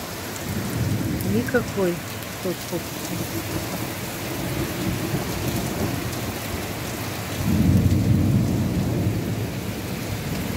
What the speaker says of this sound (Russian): Гром бесконечный.